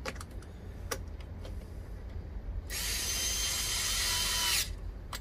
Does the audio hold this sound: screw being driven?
yes